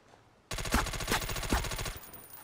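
Rapid automatic gunfire from the tactical shooter SOCOM Confrontation starts suddenly and rattles in a fast, even burst for about a second and a half, loud and close, then gives way to a quieter tail.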